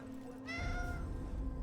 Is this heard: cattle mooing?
no